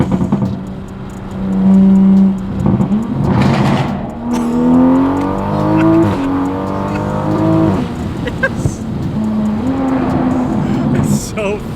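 A Toyota Supra with a B58 engine running on methanol accelerates hard, the engine note rising through several gears with shifts between pulls, loud and close inside the car, with people talking over it.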